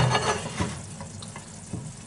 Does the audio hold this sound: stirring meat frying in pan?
yes